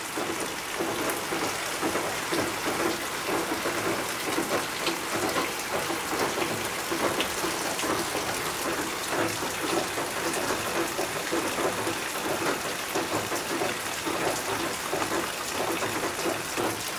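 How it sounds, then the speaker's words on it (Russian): Heavy rain pours down in a dense, steady hiss that stays loud and even throughout, with no voices over it. "и опять сейчас ливень поливает."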